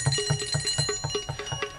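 A small hand-held bell is rung rapidly, about eight bright strikes in a quick, even rhythm, close and clear with nothing else heard.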